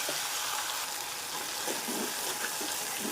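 Ginger-garlic paste and tomato purée frying in a pan, a steady soft sizzle with faint stirring scrapes near the end, fairly quiet and continuous with no talking.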